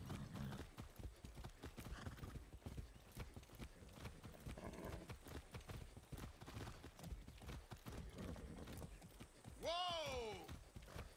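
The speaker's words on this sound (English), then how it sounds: "I need your horse." Horse hooves clip-clop steadily in Far Cry 6, a brisk walking rhythm under a man's speech, ending with a loud whinny near the close.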